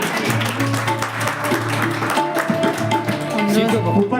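An audience at a Bhagavat Katha honour ceremony in Badrinath claps to welcome the cooks, a dense patter of applause mixed with music and voices.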